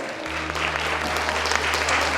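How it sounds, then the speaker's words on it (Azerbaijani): Audience applauding at the FISO STEMCO GJMAT 2025 award ceremony, a steady dense clapping that fills the whole moment over a low constant hum, no speech. "səslənsin alqışlarınız"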